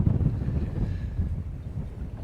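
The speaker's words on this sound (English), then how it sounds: "Be careful out there in this wind." Strong wind buffets the microphone on a rocky Northumberland coast at Beadnell Point while cod fishing, a steady low rumbling roar with no talk.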